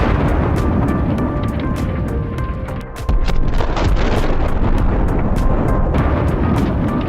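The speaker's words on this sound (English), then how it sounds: "The flames reach the ammunition, and a strong explosion turns the equipment into ashes." Ammunition detonates inside a burning Russian armored personnel carrier struck in combat, a loud sustained roar with a sharp surge around the middle and crackling bursts, heard from a distance without speech.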